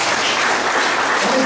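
A church congregation at a Baptist fellowship Sunday service claps steadily in dense, sustained applause filling the whole moment, with no speech over it.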